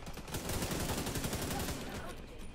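Rapid gunfire in The Division 2, short repeated shots rattling fast and fairly close for a couple of seconds, slightly muffled under the game mix.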